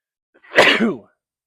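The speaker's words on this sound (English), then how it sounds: "I'm gonna sneeze" A single loud, close sneeze, a sharp intake bursting into a forceful, breathy expulsion lasting under a second, with silence around it.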